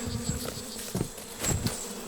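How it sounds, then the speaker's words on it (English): A dense, continuous buzzing of many small stingless bees swarming close by around a large nest in a strangler fig, with louder swells as some fly right past. "Right now there are bees raining out of the nest and cascading down here"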